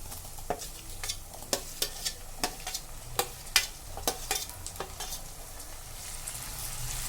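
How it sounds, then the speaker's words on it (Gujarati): Chopped tomatoes fry with browned onions in a pan for brinjal bharta, with a soft continuous sizzle broken by about a dozen crisp spatula scrapes and taps in a loose, steady rhythm, close by. "હવે આમાં આપણે જે ટામેટા સમારીને રાખ્યા હતા એ એડ કરી દઈશું"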